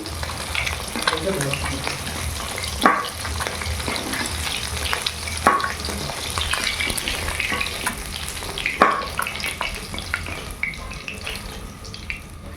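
Katla fish sizzles while frying in oil for a malai katla dish, a continuous loud crackle with occasional sharper spatters and clinks, close up with no talking.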